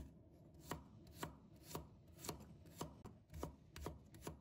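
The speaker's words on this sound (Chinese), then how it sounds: "然后直接把它剁成蒜末" A kitchen knife mincing garlic on a cutting board gives crisp, steady chops about twice a second, close and quiet, with no voices.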